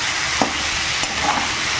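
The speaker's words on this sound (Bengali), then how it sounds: "মাছগুলো খুব ভালো করে ভাজবো" Chang fish frying in hot oil while being stirred in a pan, with a steady close sizzle and a few brief scraping stirs.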